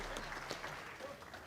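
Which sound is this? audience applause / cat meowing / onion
audience applause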